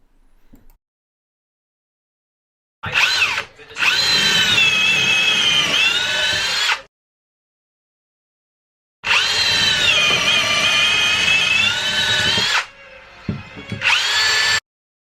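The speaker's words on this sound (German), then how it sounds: "In der Mitte wird dann die Durchgangsbohrung für den Einschraubdübel gebohrt." A power drill whines loudly in two long bursts with a short start between, its pitch wavering as it bores a through-hole in wood for a furniture screw-in dowel, separated by silence.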